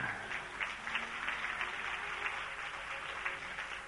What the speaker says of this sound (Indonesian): Beri tepuk tangan, saudara.